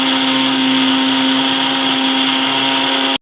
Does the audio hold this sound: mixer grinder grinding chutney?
yes